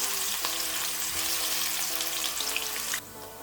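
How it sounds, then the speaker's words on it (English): Onions sizzle steadily in hot oil for a Nigerian chicken curry sauce, a dense crackling fry that runs close and even, then drops to a quieter sizzle near the end. "please add in some onions, okay? And you want to fry this for about 1 minute 30 seconds."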